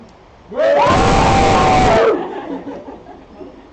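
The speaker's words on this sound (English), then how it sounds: "I expect the loudest cheer from the biggest contingent, Libby's and Shea's Oxford friends" Wedding guests led by a group of Oxford friends let out a loud, close crowd cheer with yells and whoops lasting about a second and a half, cutting off abruptly into scattered chatter and laughter.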